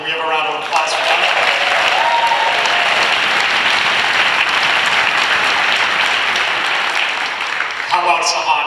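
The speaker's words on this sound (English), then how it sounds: "Can we have a round of applause for them?" A rally audience breaks into sustained applause, dense loud clapping that holds steady for several seconds before tapering off, with a voice faintly at the edges.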